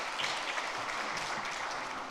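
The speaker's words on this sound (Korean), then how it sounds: "박수로 부탁드리겠습니다." A church congregation applauds during a Sunday afternoon service as a member comes forward to give a testimony, a steady, moderately distant clapping that holds evenly for its whole length.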